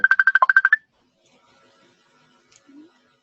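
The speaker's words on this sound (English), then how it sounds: "Someone's ringing through. It's like I'm hearing the phone calls coming through from the messenger on." A messenger app's incoming call ring plays from a computer as a quick burst of about nine bright, evenly spaced electronic pulses lasting under a second, then near silence with faint background traces.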